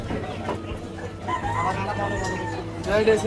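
A rooster crows amid clucking chickens at a market stall, the drawn-out crow clear and fairly close, with a second call rising near the end over a low murmur of market noise.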